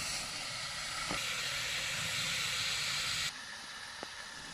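Pieces of mrigal fish laid gently onto spices frying in oil give a steady, broad hiss of sizzling that keeps on without a break, dropping a little in level near the end, with a faint clink or two.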